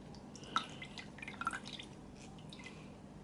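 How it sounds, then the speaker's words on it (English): A cotton round wetted with water for eyebrow tinting, giving a few soft, close drips and small wet squishes in short bursts over a quiet background, with no one talking. "I'm just going to, once again, wet the cotton round"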